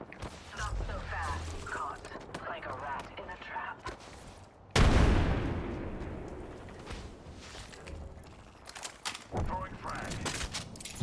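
Hip-fired weapon bursts in Apex Legends, a loud dense volley erupting midway and decaying into rumbling echoes, with scattered shots and game effects before and after under intermittent speech.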